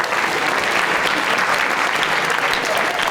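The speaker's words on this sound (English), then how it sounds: "give yourselves a round of applause as well" Students at a high school Veterans Day assembly applaud together, a dense, loud wash of clapping that fills the space evenly from start to finish.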